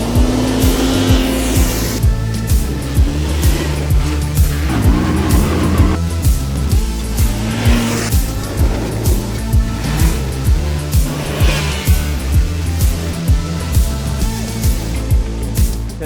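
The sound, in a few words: Yamaha side-by-side UTV driving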